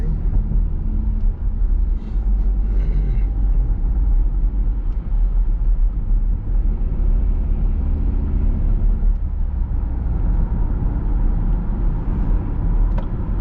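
A car cruises along a North Dakota highway at dawn, heading south from Bismarck toward Jamestown, with a constant loud low road rumble and steady engine drone throughout, close and uninterrupted.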